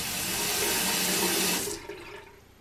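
Tap water runs steadily from a repaired Moen faucet into a sink, a close, continuous rushing stream that cuts off near the end and leaves a faint trickle.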